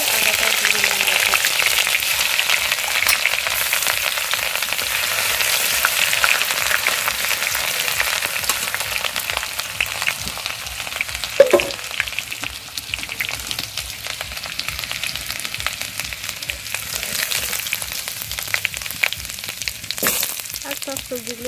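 Ginger and nigella seeds fry in hot oil for a vegetarian dish, giving a steady close sizzle with a few stirring clatters, while someone talks over it.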